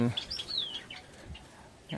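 Soft chirps and a sliding tweet from small caged birds, fairly faint against a quiet background.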